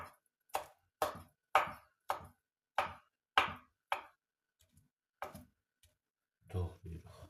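A knife chops boiled eggs on a cutting board for crab salad, producing about eight sharp, evenly spaced thuds close by, followed by a few softer taps and a brief rustle.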